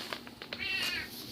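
An indoor cat lets out a drawn-out howling meow, close and fairly loud, preceded by a few short chirps.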